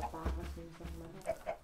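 A chicken in the Minecraft video game clucks in a few short, close bursts over a faint game backdrop.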